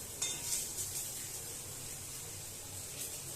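Fritters sizzle in a little hot oil in a wok, a steady hiss with a few brief spatters and faint clinks of a utensil near the start.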